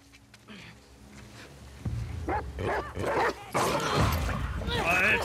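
In The Last of Us Part II, a dog barks and yips close by in a burst of repeated calls, mixed with whimpers and other game sounds, rising in loudness toward the end.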